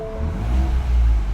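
A 2021 Ford Bronco Outer Banks engine rumbles and rises briefly, a short low revving burst heard up close through an open door.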